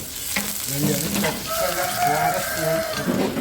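About fifteen chopped shallots sizzle steadily as they wilt in a hot pan, a close, continuous frying hiss that runs throughout, with some wavering tonal sounds in the background.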